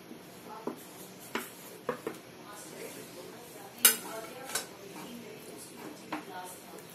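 A spoon scrapes and clinks against a pan while bread pieces are stirred into boiling milk, soft irregular taps over a low simmer, with someone talking throughout.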